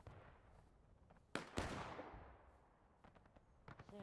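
Two sharp bangs from a Civil War era cannon or gun in the War of Rights video game, Wheat Field map, the second heavier with a rolling tail, fairly faint and distant over low ambient noise.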